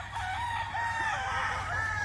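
Rooster crowing on a game farm in Misamis Oriental, Philippines: one drawn-out crow heard from a moderate distance, alone over a low steady background hum.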